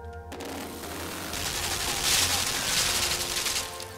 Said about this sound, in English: That's an automatic gun turret.